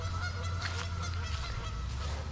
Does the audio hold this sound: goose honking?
yes